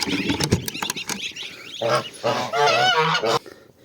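Domestic geese and goslings in a farmyard honk loudly and close by in a burst of several harsh calls. Scattered clicks and rustling come first, and a short quieter tail follows.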